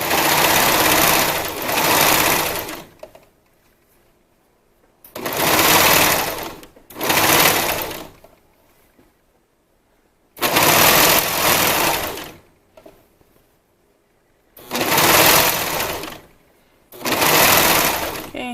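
A sewing machine stitches swim bottoms in four or five loud, close bursts of rapid whirring, each a couple of seconds long and separated by pauses of near silence.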